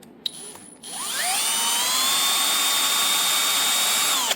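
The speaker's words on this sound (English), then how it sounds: "I've got the Milwaukee with a 4 millimeter socket, which works great." A Milwaukee power drill fitted with a 4 mm deep-well socket spins up with a rising whine, then holds a loud, steady high-pitched drone while backing out bolts on a 1/14 Komatsu D575 dozer model.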